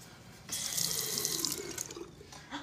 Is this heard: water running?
yes